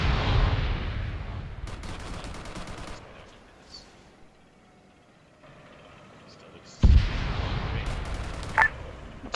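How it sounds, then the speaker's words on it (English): Heavy blasts from three satchel charges in a military video game, a loud rumbling boom dying away into quiet, then another sudden close explosion with a sharp crack. "that was 3 satchel charges"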